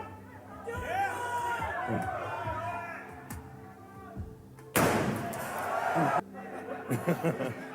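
A sledgehammer strikes a regular truck door at the Tesla Cybertruck unveiling, crashing once, loud and close, ringing briefly before fading, with people chatting and laughing around it.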